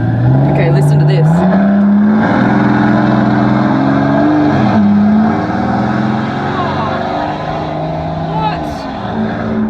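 A loud Maybach Exelero engine drones and revs up and down close by, its pitch rising and falling, with a brief spoken word over it.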